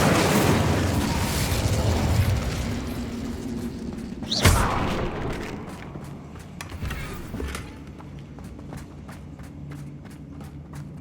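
The Confringo fire spell in Hogwarts Legacy bursts in a single sharp explosion midway, preceded by busy scuffling and footsteps, followed by fading rumble and small crackling pops.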